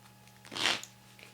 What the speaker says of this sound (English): I'm just going to shuffle up the cards